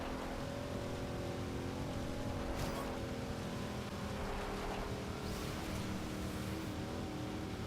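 An off-road racing vehicle engine in Forza Horizon 2's Montellino Offroad Series holds a steady, moderately loud drone with mild swells in pitch, with no voices over it.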